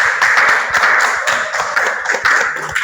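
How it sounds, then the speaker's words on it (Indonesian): Applause for group 2 after their presentation during a teacher performance assessment session at a junior high school, a steady wash of many hands clapping indoors with a few sharper claps standing out. "bagi tepuk tangan sekali lagi"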